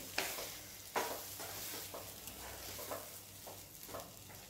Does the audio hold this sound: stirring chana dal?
yes